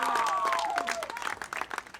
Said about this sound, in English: Nice round of applause for Colby Peacock picking up the win